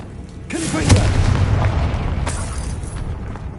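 A Confringo fire spell bursts in Hogwarts Legacy on PS5, a loud booming explosion that rolls into a sustained rumbling roar lasting several seconds.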